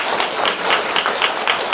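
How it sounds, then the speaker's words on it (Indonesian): A church congregation cheering and clapping for Jesus, a brief steady burst of dense applause and crowd noise without pause. "Berikan sorak-sorai buat Tuhan Yesus"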